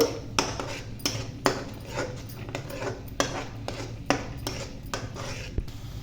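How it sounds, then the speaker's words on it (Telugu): Meal maker gravy with cashews stirred in a pan, a spoon scraping and clinking against the metal at a steady, irregular pace with sharp taps over a low background, close and with no talk. "గ్రేవీ అనేది అడుగంటకుండా ఇలా కలుపుకుంటూ ఉండాలి ఆయిల్ సపరేట్ అయ్యే వరకు"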